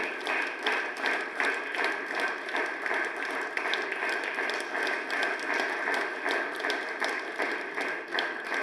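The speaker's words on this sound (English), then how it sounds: "Keep the applause going, gentlemen." Sustained applause from an evening audience at a National Foundry Day celebration, honouring a lifetime achievement recipient during a presentation; dense, steady clapping fills the whole stretch at moderate loudness with no voices over it.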